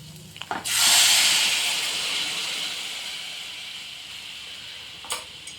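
Vegetable mixed in water is poured into a hot kadhai with roasted peanuts, bursting into a loud sizzling hiss that slowly fades, with a brief clatter near the end.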